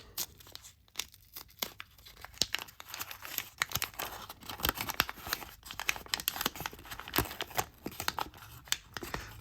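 Tape is torn off a taped-up box holding a filament LED Christmas bulb, a close, quiet run of rapid crinkling rips and crackles in uneven bursts throughout, with no talk.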